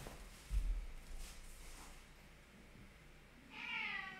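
Cat meowing indoors, one faint, drawn-out meow near the end after a quiet stretch with a soft thump early on.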